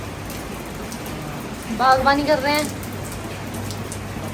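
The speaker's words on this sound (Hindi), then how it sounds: "बारिश में नहाया जा रहा है" Steady rain falls outdoors as a continuous hiss through the clip, with a short stretch of nearby talk in the middle.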